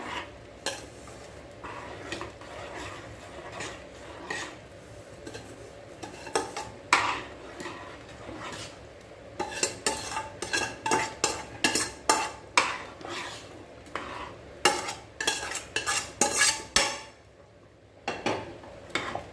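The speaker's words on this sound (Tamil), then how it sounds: "நம்ம எடுத்து வச்ச ரவையை கொஞ்சம் கொஞ்சமாக போட்டு கிளறிக்கலாம்" A spoon stirs semolina into boiling water in a pot for wedding-style rava kichadi, with repeated scraping and clinking against the metal that comes in uneven bursts and grows busier toward the end, close and clear with no speech.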